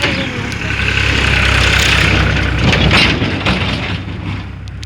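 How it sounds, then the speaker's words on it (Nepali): Loud, rumbling tractor engine close by, rising slightly then easing off as the tractor moves past, with no talking. "अहिले ट्र्याक्टर आएर डिस्टर्ब गरेको"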